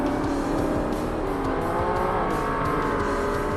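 A TVR race car engine in Forza Motorsport drones close behind, loud and continuous, with a buzzing, revving tone under a steady car roar.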